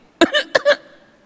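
A person imitates coughing with two quick pairs of short, harsh bursts, loud and close, followed by quiet.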